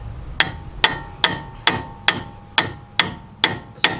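A hammer strikes a steel pickle fork being wedged into a vehicle's suspension joint, nine sharp metallic blows in a steady rhythm about half a second apart, loud and close.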